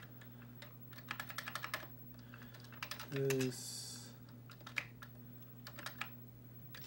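Keys on an aging Commodore 64 keyboard clack in quick bursts of individual strokes, fairly close, over a steady low electrical hum, with a brief hiss and a word of speech in between.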